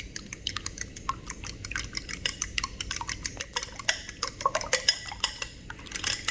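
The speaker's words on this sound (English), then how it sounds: "Grabbing our trusty fork, and we're going to whisk." Fork whisking crabcake stuffing in a bowl, a steady run of quick clinking taps against the bowl side, close and fairly quiet, with no talking.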